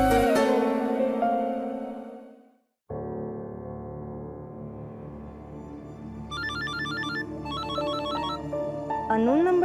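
A phone ringtone chirps in a Hindi TV drama: short repeating electronic bursts arrive in two quick groups near the end, fairly faint under background music that plays throughout.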